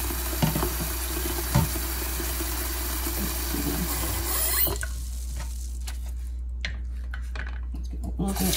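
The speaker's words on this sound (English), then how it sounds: "I'm going to start by trying to rinse the blueberries." Tap water runs steadily into a kitchen sink while blueberries are rinsed, a continuous hissing splash that stops midway, followed by quieter clatter and light handling sounds.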